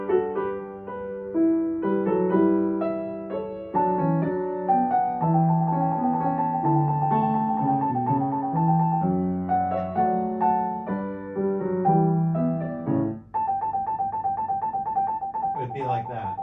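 A keyboard plays a measured trill from Bach's Goldberg Variations: a steady melodic passage gives way to rapid, evenly spaced alternating high notes near the end, clear and continuous with no talking.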